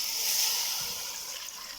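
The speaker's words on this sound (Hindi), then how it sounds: "Yes, viewers, I am going to add water in it." Water is poured from a jug into a small pressure cooker while naliyaan paye are cooking, a steady close splashing hiss that eases slightly toward the end, with no talk.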